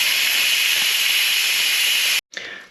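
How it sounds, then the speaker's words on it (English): Electric pressure cooker venting steam for a pork pie, a loud continuous close hiss that cuts off abruptly and briefly resumes. "Move it a little bit further away from the cupboard and just let it steam off."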